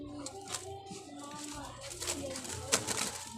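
Pet doves or pigeons (alimokon) coo softly in a close, busy setting, with children's voices talking over them throughout.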